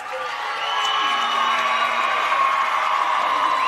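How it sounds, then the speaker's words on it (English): An ice hockey crowd at the AWIHL final, where Melbourne Ice are crowned champions, roars in a broad wash of cheering, shouts and whoops, swelling and holding loud with some clapping mixed in. "Stand and applaud as they count it down."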